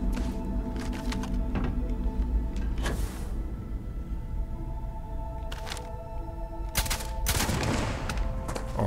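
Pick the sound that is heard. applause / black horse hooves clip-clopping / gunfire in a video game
gunfire in a video game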